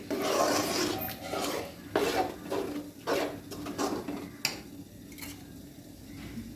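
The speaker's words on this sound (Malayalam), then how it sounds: "നന്നായിട്ട് ഇളക്കി കൊടുക്കുക." A spoon stirs chickpea curry in a pan with rough, rasping scrapes in repeated strokes, close and moderately loud, easing off toward the end.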